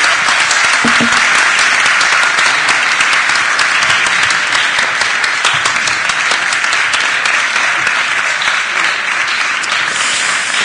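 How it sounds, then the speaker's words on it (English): Loud, dense audience applause at an anniversary event for a European fund in Belgrade, a sustained wash of many hands clapping close by without letting up. "Applause to Hedvig."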